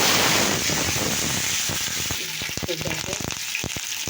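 Papaya and potato fry in oil with panch phoron and bay leaf, a steady loud sizzle close up that thins into crackling pops and occasional stirring taps.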